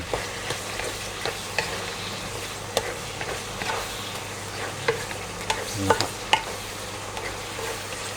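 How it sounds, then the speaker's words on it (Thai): Chinese cabbage with tofu and minced pork stir-fried in a wok, with a steady sizzle and irregular scraping and clanking of a spatula against the pan, close and continuous. "อันนี้เราก็จะผัดให้เครื่องปรุงทุกอย่างมัน เข้าเนื้อกัน"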